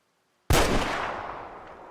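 A single loud rifle shot in the hunting game Way of the Hunter cracks out of silence, then rolls away in a long, slowly fading echo.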